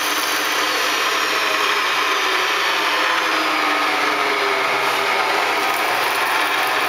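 A DC motor drives a Bridgeport milling machine at a steady 2232 RPM, giving a constant, even whine with broad airy hiss, close and unchanging, with no talking.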